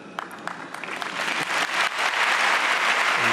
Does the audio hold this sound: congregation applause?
yes